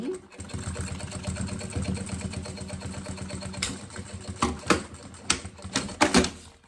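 Sewing machine stitching the side seam of a fabric box-style school pencil case, a fast steady mechanical rattle running in bursts, stopping partway, followed by shorter handling clicks and rustles of fabric.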